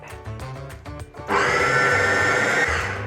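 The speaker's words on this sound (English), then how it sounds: "we're going to pop this lid back on and grind it up" A blender grinds a seed mixture with avocado oil for sweet potato chips: a few clunks and rattles, then the motor roars up loud and steady to the end.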